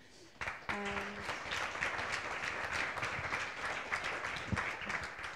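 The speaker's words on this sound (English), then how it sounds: "If we could have a round of applause one more time" Applause from an audience at a startup pitch event breaks out suddenly and holds steady as a dense, even wash of clapping, fairly distant and soft, with a few voices audible at the start.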